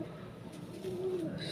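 Racing pigeons cooing at close range, a soft low throaty coo swelling in the middle, with faint background noise and no other sounds.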